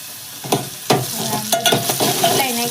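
Potatoes with turmeric and salt being stirred in a frying pan, several distinct scraping strokes and clinks over a continuous close sizzle.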